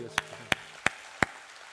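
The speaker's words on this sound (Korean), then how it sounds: "하나님께 영광의 박수 올려드리겠습니다." A church congregation claps during a Sunday service, four sharp, evenly spaced claps ringing out close and distinct over faint voices.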